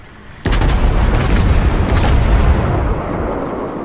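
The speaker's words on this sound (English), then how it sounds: "Take some shots at the Lexington" Battleship main guns firing in the World of Warships game: one sudden heavy boom that rolls into a sustained, rumbling blast lasting a few seconds before easing off.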